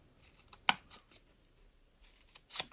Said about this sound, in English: So I'm going to cut into them